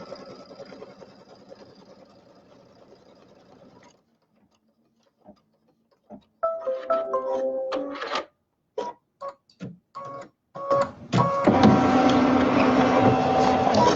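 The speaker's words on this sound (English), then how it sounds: "So we're going to sew down the tack. So it's just going to go around it once just to hold it down for me." An embroidery machine stitches a tack-down line around fabric, first a faint hum, then near silence, then loud bursts of rapid mechanical stitching and stops, ending in a sustained close run of stitching.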